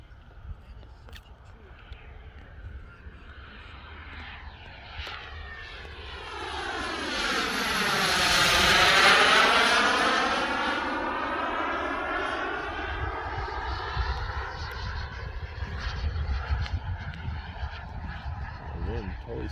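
A 12-foot turbine-powered RC T-38 Talon model jet makes a low touch-and-go pass, its whine swelling to a loud roaring peak and then sliding down in pitch as it moves away, while people talk nearby.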